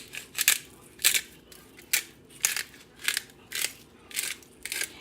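Fresh pepper being cracked from a pepper grinder over a tray of Brussels sprouts with bacon, giving about nine crisp, gritty grinding bursts in a steady rhythm, close and fairly quiet.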